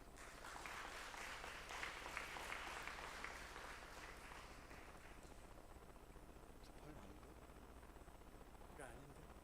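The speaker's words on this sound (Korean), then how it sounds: "큰 박수로 맞아주시면 감사하겠습니다" Audience applause at an academic conference opening ceremony, greeting a keynote speaker on public administration: broad steady clapping that swells early and then holds on at a lower level, with faint voices underneath.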